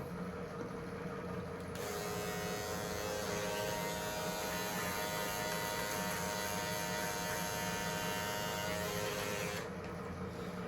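Electric razor trimming and shaping a beard, a steady close buzzing hum that starts after a brief quieter moment and runs continuously for about eight seconds before cutting back off.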